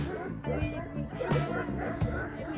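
Kangal dogs bark in short bursts at a breeding farm, the barks set against a busy background with a person talking over them.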